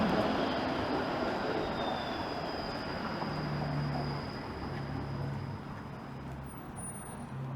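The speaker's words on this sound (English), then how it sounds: "And finally, a streetcar rolls by." A low rumbling streetcar rolls past steadily in Toronto, its steady roar filling the scene with a faint high whine above, no voices.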